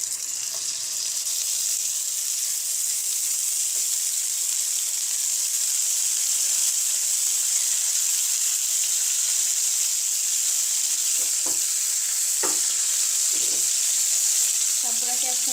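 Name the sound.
small sarputi fish sizzling as they are added to hot oil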